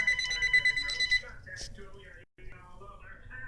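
A telephone rings with a trilling electronic bell in a quiet room, repeating a few times while people talk nearby.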